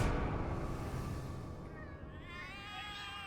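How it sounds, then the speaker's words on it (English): Cats in The Cat Lady video game, a few meows rising and wavering over a loud, dense ambient drone that fills the whole stretch, the cries sitting near and fairly prominent toward the end. "The cats are alarming."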